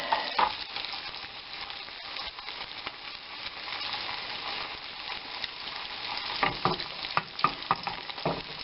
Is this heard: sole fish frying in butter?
yes